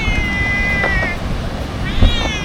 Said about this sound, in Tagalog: Ang laki ng pusa mga pre.